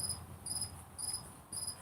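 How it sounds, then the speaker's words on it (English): Crickets chirp steadily in a yard, with regular, evenly spaced pulses of shrill trilling from several insects, close and fairly loud over a quiet background. "these crickets seem to go all day"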